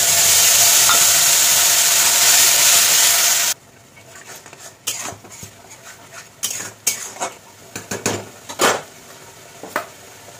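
Tomato puree poured into hot oil with bay leaves and whole cumin for shahi paneer masala, starting with a loud, sustained sizzle that cuts off abruptly, followed by scattered clinks and scraping of a spoon against the pan.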